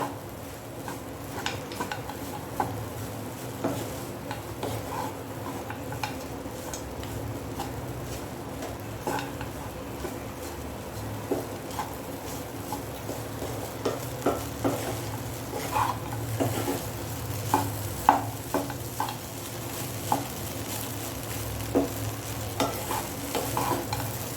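Poha upma is stirred in a pan, with a spatula scraping and tapping against the metal in irregular strokes over a continuous low sizzle.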